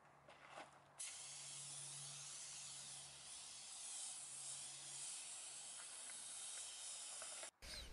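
A spray gun lays a second clear coat on a car body during a mobile paint job, a steady, close, continuous hiss that runs for several seconds before cutting off abruptly.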